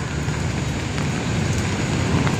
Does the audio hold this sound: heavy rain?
yes